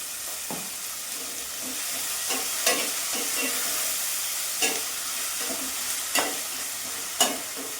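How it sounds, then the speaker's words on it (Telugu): Onions frying in a pan with a steady close sizzle, and a spoon stirring through them in scattered scrapes and knocks; no one speaks. "ఉల్లిపాయలు మగ్గిదాకా ఉల్లిపాయలు మగ్గుతాయి."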